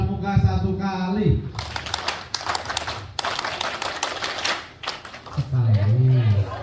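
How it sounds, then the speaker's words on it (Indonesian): A group of people at a school Christmas celebration performs the Indonesian scout clap, a rhythmic series of sharp, crisp group claps in bursts, with voices speaking or chanting before and after. "Tepuk pramuka satu kali."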